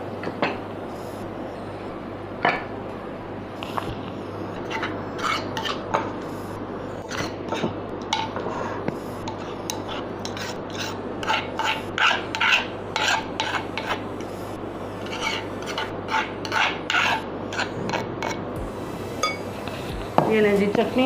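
Ground tomatoes are scraped and mixed into a mango, coriander and mint chutney, giving repeated rasping rubs and light clinks of a utensil against a bowl, steady and close throughout.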